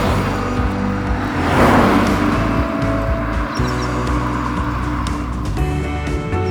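Mini Cooper SE electric car on the move, a steady loud blend of road and tire roar with a faint whine, swelling briefly as if passing something, with no talk.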